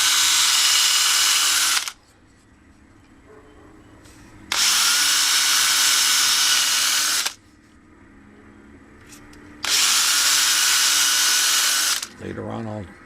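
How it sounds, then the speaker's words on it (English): A power drill drilling pilot holes in wood whirs loudly in three bursts of about three seconds each, separated by quiet pauses, with a brief clatter at the end. "Now I'm just going to drill some pilots in these other marked holes"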